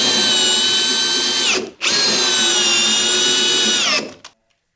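A power drill whines loudly in two long bursts while driving screws, briefly stopping between them, its pitch dropping as each run winds down.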